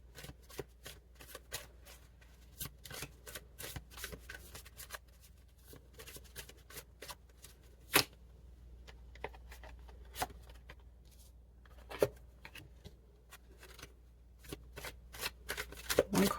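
Tarot cards being shuffled by hand, a quiet, close series of rapid riffling bursts and soft card slaps repeating steadily, with occasional sharper snaps.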